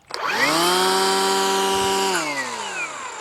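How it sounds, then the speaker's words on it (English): EGO lithium battery cordless string trimmer spinning up quickly to a steady high whine, holding for about two seconds, then winding down as the motor is released; loud, close and alone. "This model has 2 speeds for when you're running the trimmer, low"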